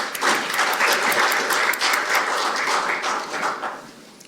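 Sustained audience applause at a national maritime talent strategy forum at the National Assembly, dense steady clapping of a sizable crowd that holds evenly and tapers off at the end.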